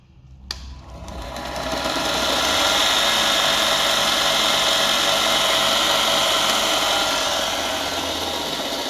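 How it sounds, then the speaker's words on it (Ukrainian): Bench grinder running from a portable power station: a click, then the motor spins up over about two seconds into a loud, steady high-pitched whine that holds close and constant. "Наприклад, запустимо ми її від наждака."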